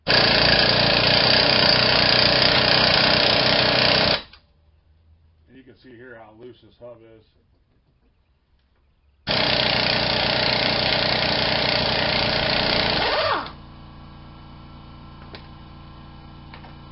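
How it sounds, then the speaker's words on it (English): An air compressor in a home garage during a wheel bearing job on a 2005 Toyota Sienna runs with a loud, steady drone. It cuts off, briefly gives way to a voice, then kicks on again and runs before dropping to a lower hum. "I turn it off because that compressor kicked on"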